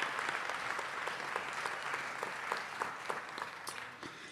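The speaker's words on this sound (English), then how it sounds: "give a very resounding round of applause to the funders and organizers of the 2024 International Youth Conference" An audience at the 2024 International Youth Conference on Biodiversity gives a round of applause, steady clapping from a crowd that holds for several seconds and tapers at the end.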